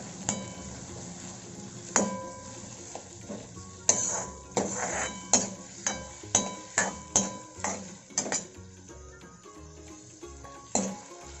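Dried bombil and potato are sautéed in a pan for a traditional Agri-style curry, with a spatula knocking and scraping against the metal in repeated rhythmic strokes over a faint sizzle.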